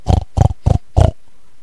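A pig grunting in a story about a little red hen: four short, loud, close grunts spaced evenly, then quiet.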